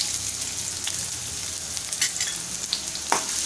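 Finely chopped medium onion dropped into a spoonful of hot oil in a heated kadai for a Malvani cauliflower curry, giving a steady loud sizzle with a few scattered stirring clinks and scrapes.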